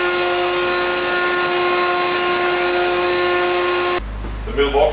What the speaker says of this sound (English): Milwaukee backpack blower.